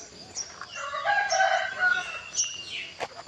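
A rooster crows once with a bright, drawn-out call at a Buddhist temple in the morning, joined by scattered bird chirps and other fowl nearby.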